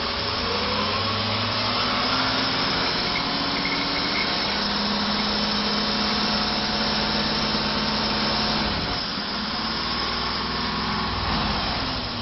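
A small carbureted engine runs loud and close, revving up from idle with a rising, buzzing pitch before settling again.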